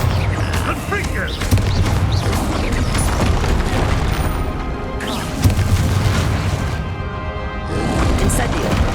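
Explosive Confringo fire-spell blasts boom through a Hogwarts Legacy battle on PS5, loud, repeated impacts layered over dense combat noise, with voices shouting throughout.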